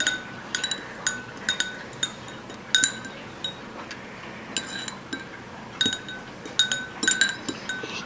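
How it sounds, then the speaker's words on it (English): Homemade gelatin snot mixture being stirred in a container, giving repeated light clinks and taps of a utensil against the sides in an irregular rhythm, fairly close and moderately quiet, with no talking. "Let's stir it a little bit."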